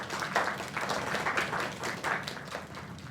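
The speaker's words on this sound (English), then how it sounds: "Another round of applause." A crowd applauds a singer's performance, a steady wash of clapping at moderate level lasting the whole stretch, with no clear speech over it.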